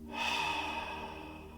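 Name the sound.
fiery belly breaths in through the nose, out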